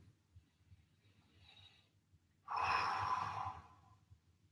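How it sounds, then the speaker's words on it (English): A long, breathy exhale rises suddenly and holds for about a second and a half during a recovery stretching workout, close and fairly clear after a quieter, softer breath. "Breathe it away."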